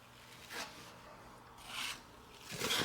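A drywall knife spreads a first filler coat thinly over a patch during apartment maintenance work. Three soft, quiet scraping strokes are spaced apart, with near silence between them.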